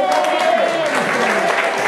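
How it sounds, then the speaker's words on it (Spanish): An audience at a school festival for grandparents claps in a short, loud burst, with talking and voices mixed in under the applause. "Un fort aplaudiment!"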